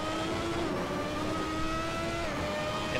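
A Ferrari 643 Formula One car in Assetto Corsa screams at high revs, its engine note steady and loud with a quick gear shift and throttle cut near the end.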